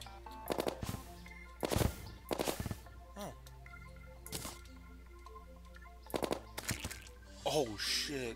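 Clockwork rifle from Terraria firing in short rapid bursts of sharp cracking shots, several clusters spread across the stretch over a low steady game background, with no speech.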